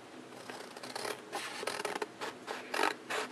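Scissors snipping through paper to trim tabs on a periodic table foldable book, a quick run of close, crisp cuts and rustling paper in an irregular rhythm without speech.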